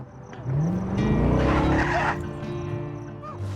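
Car in Just Cause 3 skidding along, its engine revving up and rising in pitch over a drawn-out tire squeal, loud and close, then settling back.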